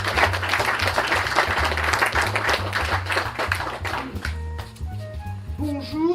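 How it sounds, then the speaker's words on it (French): Audience at a community centre general meeting applauding, a dense burst of clapping that fades after about four seconds, over a steady low hum, with speech underneath. "On peut les applaudir bien fort."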